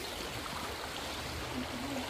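A river stream flows on a rainy enduro trail, a steady, loud rushing of water filling the scene with no pauses.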